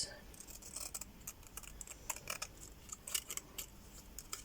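Scissors snip around a paper printable, a close series of short, crisp cuts in an uneven rhythm, fairly quiet and without talk.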